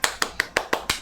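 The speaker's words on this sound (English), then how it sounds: "Why is that person clapping so hard?" Six or so loud, evenly spaced claps from the video game Tales of the Abyss, crisp and rhythmic, with no other sound around them.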